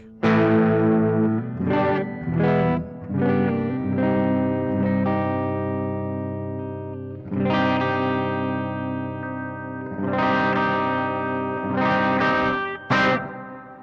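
A Les Paul electric guitar with aftermarket pickups is played clean through effects, strummed chords swelling and ringing out in several separate phrases with chorus-like shimmer, alone and fairly loud.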